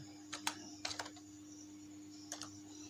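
Light typing on a computer keyboard, a few short bursts of clicky keystrokes separated by pauses over a low steady hum, fairly quiet and close.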